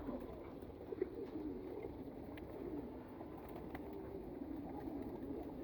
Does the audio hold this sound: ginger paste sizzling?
no